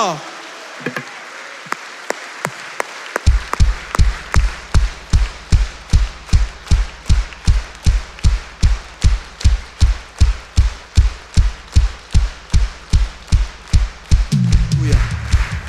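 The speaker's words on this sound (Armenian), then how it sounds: "սրանք փառքի ծափեր են, որ բարձրանում են դեպի քեզ" A congregation at a church service claps in praise in unison: a long run of loud, evenly spaced rhythmic claps after a quiet start, with voices rising near the end.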